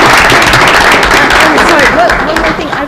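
Audience applause and clapping fill a council chamber at a Springfield, Tennessee Board of Mayor and Aldermen meeting, a dense, loud burst that tapers off toward the end.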